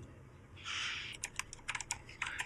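Keys on an old Apple ADB keyboard are pressed, starting with a brief shuffling rub and then a quick run of crisp, close clicks in an irregular typing rhythm, with no voices.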